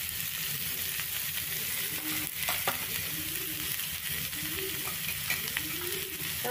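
Veg burger stuffing with kasuri methi and tomato sauce being stirred in a hot pan, a continuous close sizzle broken by repeated scraping strokes of a spoon in a steady rhythm.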